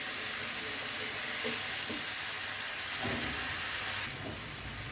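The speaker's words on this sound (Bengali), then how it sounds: "সবগুলো মশলা খুব ভালো মতন কষাই নিব প্রথমে" Onion, chili and spices such as garlic paste, cumin, coriander, salt and turmeric fry in a pan with a steady, loud broadband sizzle that runs throughout, broken by a few soft stirring knocks.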